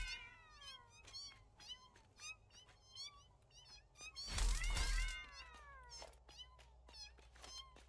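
A cat creature in the Satisfactory video game meows repeatedly, a rapid series of short, sliding mewing calls, with a heavy thud and rumble near the middle before the meows carry on.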